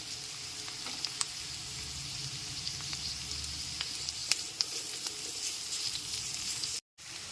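Chopped carrots fry with lightly sautéed chopped onions for egg chowmein, making a steady close sizzle with scattered pops and stirring scrapes, which cut out briefly near the end.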